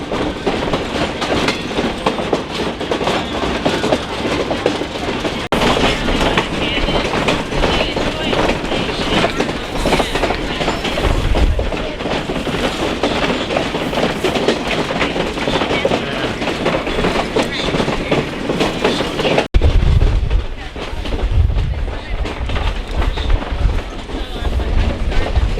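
A tourist train through Verde Canyon rumbles along the rails with a constant clattering roar and rhythmic rattling, heard from on board, while voices talk faintly beneath the noise.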